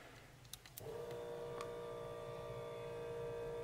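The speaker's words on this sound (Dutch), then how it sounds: "wat jullie horen is dus het opvoerpompje" An electric fuel booster pump on a VW Golf Rallye starts up after a few faint clicks and then runs with a steady, quiet whine and hum that holds constant to the end.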